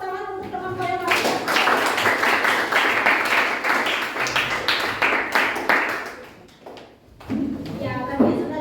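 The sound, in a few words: class applauding a student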